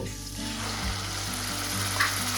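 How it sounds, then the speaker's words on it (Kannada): Onion, garlic, green chillies and tomato frying in a pan for a home-style egg curry, a steady close sizzle with faint stirring scrapes and no talk. "ಉಳ್ಳಾಗಡ್ಡಿ ಬೆಳ್ಳುಳ್ಳಿ ಎಲ್ಲ ಇದು ಮೆಣಸಿನ್ಕಾಯಿ ಎಲ್ಲ ಫಸ್ಟ್ ಕ್ಲಾಸ್ ಫ್ರೈ ಮಾಡ್ಕೊಬೇಕು"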